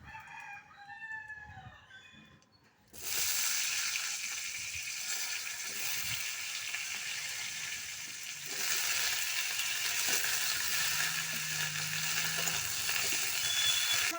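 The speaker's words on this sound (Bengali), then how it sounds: "এবার ফুলকপিটা এই তেলেই ভেজে নেব।" Cauliflower frying in the oil left over from browning potatoes, for a rohu fish and cauliflower dish; a rooster crows faintly at first, then a loud, steady sizzle of hot oil fills the rest without pause.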